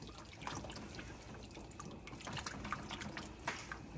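Milk gravy being whisked in a pan, with light quick liquid clicks and sloshing taps in an irregular rhythm over a low kitchen background hum, close and fairly quiet, with no speech.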